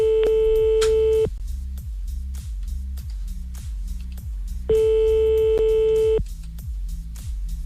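A telephone busy signal heard when calling back, loud repeated beeping tones with a low, pulsing rhythm that runs through the whole clip, with two longer stretches of steady tone breaking in.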